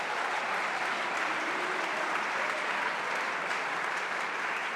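Steady, dense audience applause fills a school matric valedictory awards ceremony, holding at an even level throughout with no speech over it.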